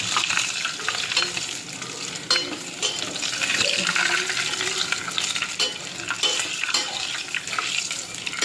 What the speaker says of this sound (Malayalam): ഈ കൊണ്ടാട്ടം നമുക്കതിലേക്ക് ഇടാം കുറേശ്ശായിട്ട്. എന്നിട്ട് നമുക്ക് ഒരു കയ്യിൽ വെച്ച് നന്നായിട്ട് ഇളക്കാം